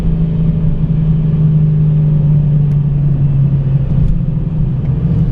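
A procharged 5.7 Hemi car accelerates hard from a rolling start, its engine a loud, close, continuous low rumble with a steady droning tone holding through the pull, no talking.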